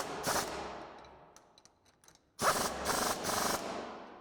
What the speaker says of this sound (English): now we can take our 17mm socket and wrench to tighten those down